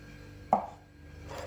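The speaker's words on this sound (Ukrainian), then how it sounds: "Чотири варені яйця нарізаємо соломкою." A knife strikes the cutting board once while slicing boiled eggs into thin strips, a single crisp chop close by followed by quiet room tone.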